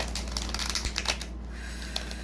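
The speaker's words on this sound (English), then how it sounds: "One more shuffle." Tarot cards being shuffled up close, a quick run of papery riffles and flutters with crisp ticking snaps, fairly loud and uneven in rhythm.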